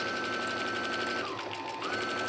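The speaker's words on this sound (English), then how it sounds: "we're just going to sew down, keeping the edges of the fabric and the bag lined up" A sewing machine runs steadily, stitching a mesh tote bag with fabric edges lined up, its continuous motor whir close and even, with a brief dip in pitch partway through and no talking.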